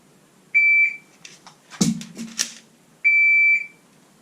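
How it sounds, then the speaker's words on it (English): A sharp electronic shot timer beep sounds, followed by quick mechanical clacks and clicks of a dry-fire handgun reload, then a second identical beep. "once that buzzer goes, I'll start my reload"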